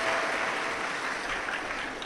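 Loud, steady applause from a large audience at a Hindu religious discourse on the Shiv Mahapuran, filling the short moment without a break and heard alone.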